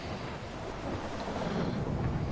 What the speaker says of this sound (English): This one's scary thunderstorm.